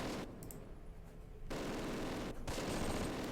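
Rifle and Browning Automatic Rifle fire rattles in a Close Combat World War II battle, dense bursts of gunfire with a short lull midway, loud and continuous.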